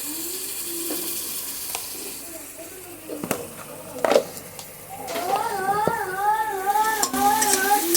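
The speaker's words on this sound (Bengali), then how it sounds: "একটু নেড়ে নেব। মশলাটা ভালো করে কষিয়ে নিতে হবে।" Masala with turmeric and salt sizzles and is stirred in a pan, with close scraping and clanking spatula strokes over steady frying hiss, and someone talks over it toward the end.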